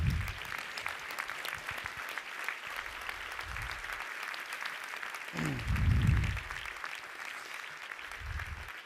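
A crowd applauds steadily, dense clapping that holds for several seconds, with occasional low booming bursts mixed in.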